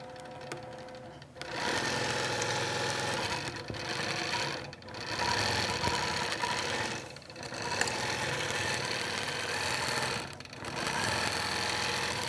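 Computerized sewing machine stitching a quilting pattern on a Baltimore album quilt, a loud, continuous close mechanical whir broken by brief pauses every few seconds, with no talking.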